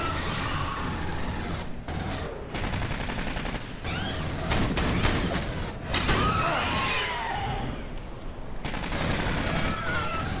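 Turret gunfire in the Aliens: Colonial Marines video game, sustained loud rapid bursts and crackling shots over a dense din of battle effects, with short breaks between volleys.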